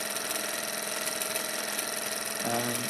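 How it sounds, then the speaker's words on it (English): A small model Stirling engine running, a steady fast mechanical whirring with a rapid regular rhythm, close and moderately loud, with a faint shift in tone near the end. "It's running, and it is a cracking little engine."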